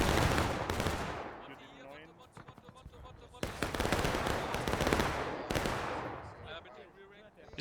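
Musket volleys crack out in War of Rights, a Civil War game battle on Bolivar Heights with hundreds of players: bursts of close, loud shots arrive in clusters with gaps between them, and distant firing carries on underneath.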